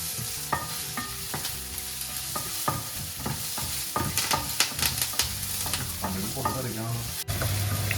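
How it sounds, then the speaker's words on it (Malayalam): Chopped onions and curry leaves sizzle steadily in a hot oiled pan for a Kerala kanji dish, with scattered stirring scrapes and clinks over a constant frying hiss. "ഇനി നമുക്ക് നമ്മൾ അരിഞ്ഞു വെച്ചേക്കുന്ന ഉള്ളിയും കൂടെ അതിനകത്തോട്ട് ഇട്ട് കൊടുക്കാം. എന്നിട്ട് നന്നായിട്ടൊന്ന് സോട്ട് ചെയ്തെടുക്കണം"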